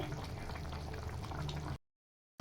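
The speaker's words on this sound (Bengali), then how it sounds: "এই আমার ডিমের ঝোল রেডি হচ্ছে," Egg curry (dimer jhol) simmers in a pan with a steady bubbling boil for nearly two seconds, then cuts to silence before a brief loud burst at the end.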